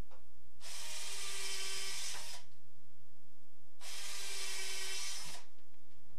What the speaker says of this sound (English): Pre-drill all tops with sideways angled holes.